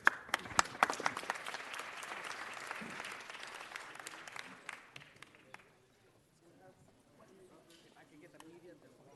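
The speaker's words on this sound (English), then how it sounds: "Let's give Danny Trejo another round of applause, members." An audience at a city council meeting applauds: a burst of crowd clapping with sharp individual claps that thins out and fades after about five seconds, leaving quiet room sound with faint murmuring.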